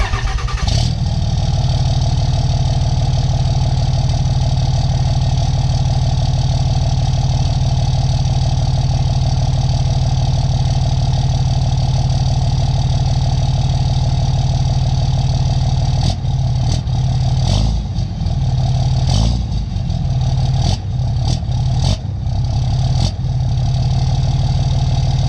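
The freshly rebuilt engine of a 2006 Dodge Ram 3500 tow truck idles loudly and close by in a steady, even rumble, with a few brief bumps and rattles toward the end.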